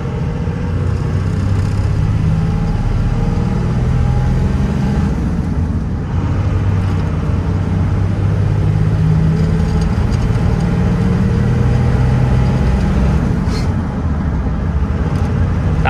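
A 2001 Dodge Ram 3500 dually 4WD with the 5.9L Cummins diesel and six-speed manual drives along, its engine droning steadily and loud from inside the cab with a low rumbling hum throughout.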